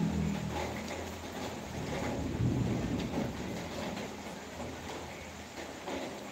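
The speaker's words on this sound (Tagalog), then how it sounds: "Ayun, kumukulog." Thunder rumbles steadily through a rainstorm, a continuous low roar mixed with the hiss of falling rain and some wind, moderately quiet and without any clear voices.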